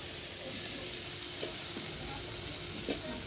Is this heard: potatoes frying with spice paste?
yes